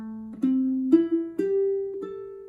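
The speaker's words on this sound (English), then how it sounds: "if we were to outline a minor 7 chord, it sounds like this" Five plucked ukulele notes rise one after another, each ringing into the next, forming a slow, clean minor seventh arpeggio.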